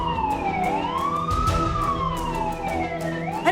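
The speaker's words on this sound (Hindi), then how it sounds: "अरे फायर ब्रिगेड वाले आ गए" A fire engine arrives with its siren wailing, a loud sweeping tone that rises and falls over a rumbling engine, with brief clanking bursts, close by.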